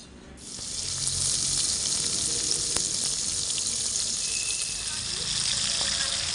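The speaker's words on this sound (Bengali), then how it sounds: "এই যে ভাত ভাজা হয়ে গেল মা ভাত ভেজে দিল" Rice frying in a pan, a dense, continuous sizzle that starts abruptly and holds steady and close for several seconds, with a few faint clicks of utensils.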